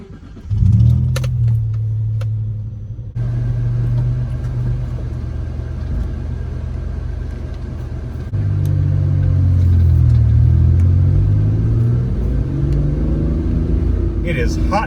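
A 1994 Mitsubishi 3000 GT drives on the road, its engine droning low and steady from inside the cabin, dipping briefly then rising as it pulls harder, with a person talking over it.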